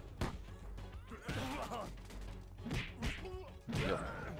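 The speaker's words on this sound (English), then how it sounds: "Stop with the explosions" Bombs explode in a Zeno Clash fight, a few heavy crashing thuds with whooshing swipes between them, loud and close amid busy game noise and music.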